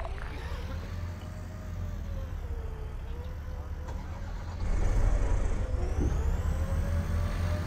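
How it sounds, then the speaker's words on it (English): A car engine in the video game Arma 3, driven through the Takistan setting, drones steadily with a low rumble that swells louder near the end, with voices talking over it. "this car sound so stupid?"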